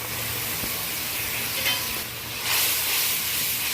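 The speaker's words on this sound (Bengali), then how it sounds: "তারপর আমি আদা বাটাটা ব্যবহার করলাম। অল্প গরম জল দিয়ে দিলাম, গুঁড়ো মশলাগুলো দেবো।" Ginger paste and ground spices sizzle steadily in a pan after a splash of warm water, a continuous close frying hiss that swells slightly toward the end, with no talking.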